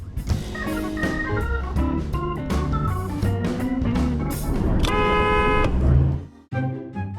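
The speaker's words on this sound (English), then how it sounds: "He only looked my way after I honked." A car horn honks during a street driving encounter with a jaywalking pedestrian, sounding as one sustained blast and then a few sharper toots amid vehicle noise and other tonal sounds.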